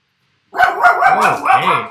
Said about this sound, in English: whose dogs are now barking